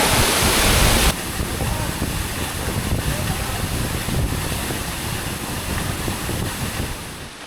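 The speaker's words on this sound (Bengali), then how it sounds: "এই ঝর্ণাটা হচ্ছে দ্বিতীয় স্টেপ সাইন প্লাস আর এটার উপরে এটার প্রথম স্টেপটা সেটা আরও বড়" The second step of the Saingpra waterfall roars as a steady, loud wash of falling water, close and continuous, with a brief burst of wind buffeting the microphone at the start.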